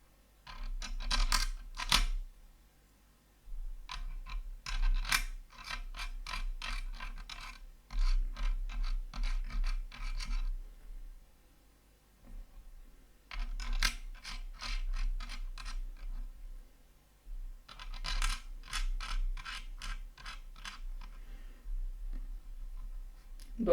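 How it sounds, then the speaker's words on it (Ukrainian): A PC cooler mounting ring being screwed on by hand, heard as close, quiet bursts of plastic scratching and ratcheting clicks in several separate runs with short pauses between. "закрутити від руки буде"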